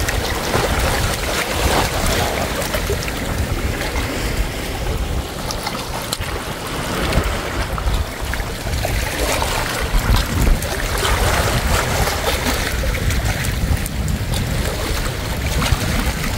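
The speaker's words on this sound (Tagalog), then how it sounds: "Yan, hampas ng alon." Continuous roar of sea surf with waves washing and breaking against shoreline rocks along a seaside boulevard in Masbate City, Philippines, loud and close, with wind noise throughout and no talking.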